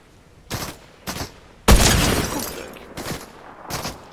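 Gunfire in a video game shooter, with a few sharp single shots and one louder, longer blast that decays slowly, spaced irregularly and heard without talk.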